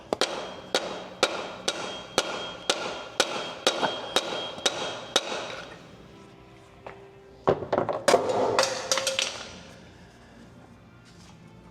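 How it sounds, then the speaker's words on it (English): An impact hammer hammers a pry bar against an Audi A4 transmission flange, about a dozen sharp metallic blows in a steady rhythm, followed by a few heavier irregular clanks and scraping as the tool shifts. "I'm using a pry bar and my impact hammer"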